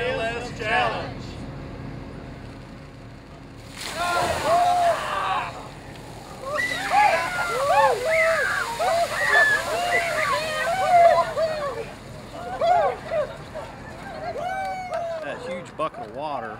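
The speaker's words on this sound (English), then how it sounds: "That huge bucket of water, I didn't think it was ever going to end." An ALS Challenge where a huge bucket of water is dumped over people, with sloshing and splashing water rising around whoops and excited voices, people talking and cheering throughout.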